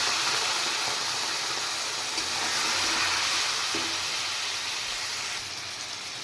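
A steady loud sizzle and hiss fills a pan of fried radish, potato and ground cumin as a little water is added, the sound holding even throughout and easing slightly at the end, with no voices.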